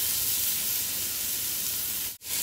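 Beef marinated in fish sauce sears in a hot pan with coriander and garlic, giving a loud, steady, close sizzle that carries on without a break and dips out for a moment near the end.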